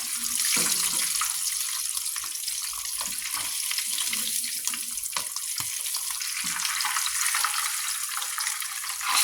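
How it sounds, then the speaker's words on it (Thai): Garlic fries in hot oil, giving a steady, dense sizzle that carries on without a break, while someone talks faintly underneath. "เวลาทอดกระเทียม กระเทียมเจียวนะคะ"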